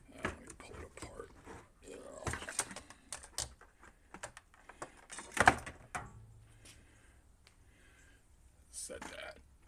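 Small plastic parts of a 12 V RV air conditioner's control panel click, snap and clatter as it is pulled apart by hand, a scattered series of faint, close taps and cracks with one sharper snap midway.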